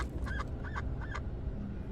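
A wooden duck decoy sounding a duck call in the Starfield video game, three quick quacking honks in a row, close and clear over a low rumbling background.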